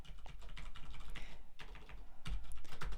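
Code being typed on a computer keyboard, a quick irregular clatter of key presses with a few short pauses, close and moderately quiet with no one speaking.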